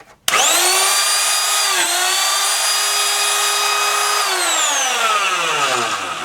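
A router spins up and cuts into wood turning on a lathe, a loud sustained high-pitched whine with dense harmonics that holds steady, dips briefly, then winds down in pitch as it slows toward the end.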